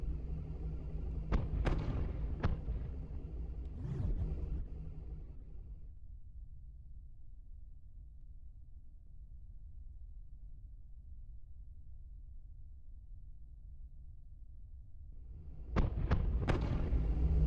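Spaceship weapons firing a bombardment in the SpaceBourne 2 game: several sharp booming shots in quick succession open the passage, then a low steady engine rumble carries on alone before another tight cluster of blasts hits at the end.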